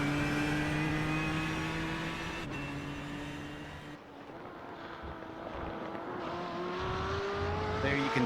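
A GTE sports car in iRacing accelerates hard out of the Ford chicane at Circuit de la Sarthe, its engine note climbing steadily through the gears, loud and close with wind rush and a brief drop as it shifts.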